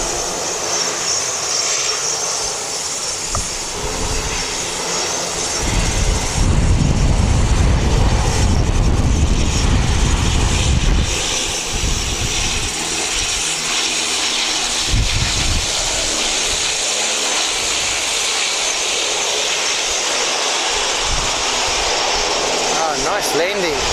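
A small Dash 8 turboprop arriving from Napier lands at Wellington Airport, its engine drone building to a loud, rumbling roar mid-way before easing into a steady hum, with distant voices faintly present.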